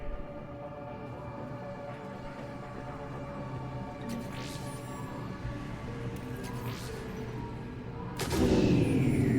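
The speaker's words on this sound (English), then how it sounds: "Then I think it's time to test this cannon." A cannon fires in Mass Effect 3, one loud booming blast near the end that breaks a humming, mechanical backdrop with a few fainter earlier bangs.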